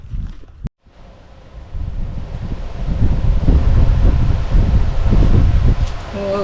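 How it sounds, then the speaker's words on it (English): Strong gusts of wind buffet the microphone by a greenhouse, rumbling low and building in intensity after a brief quiet moment near the start. "Bit windy again. Yeah, it's gonna be a windy day today."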